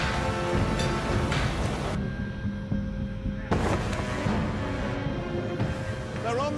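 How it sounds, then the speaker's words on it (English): A race car engine at a 24-hour race runs rough on five cylinders with its sixth injector dead, a ragged, uneven roar with popping bursts that continues throughout under nearby talk. "it's only running on 5 cylinders. Injector 6 isn't working"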